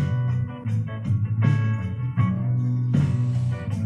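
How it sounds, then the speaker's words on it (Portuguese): Music plays steadily through a Gradiente S-125 cassette tape deck fed by a Bluetooth adapter, with full, continuous playback and rhythmic accents, and no talking. "Esse é o som do Bluetooth."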